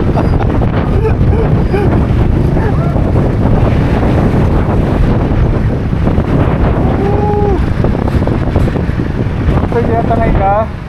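Strong wind buffets the microphone at a cold-weather campsite, a loud, steady roar throughout with brief voices talking faintly underneath.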